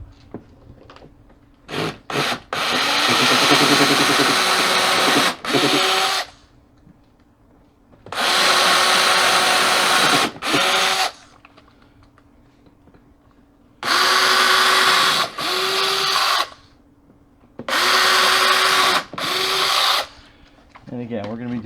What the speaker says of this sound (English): So we're going to pre-drill.